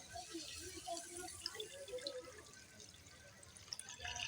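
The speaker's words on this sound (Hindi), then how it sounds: "अब हम पानी डाल लेंगे" Water poured into a pan of fried spices and carrots while making red sauce pasta with eggs and vegetables, a steady splashing wash with faint trickles, close and alone.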